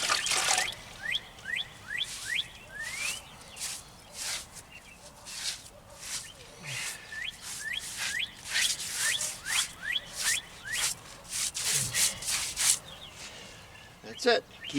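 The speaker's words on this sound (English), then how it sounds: "get your rubber glove, rub it in there, just like that" A rubber-gloved hand rubs cement into a crack in a house foundation, giving a steady scratchy rubbing texture in repeated strokes, with faint bird chirps in the background.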